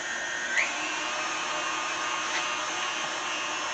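An electric mixer blends flour into buttermilk pie filling in a bowl, a steady, even motor whir held at constant pitch throughout, close and alone.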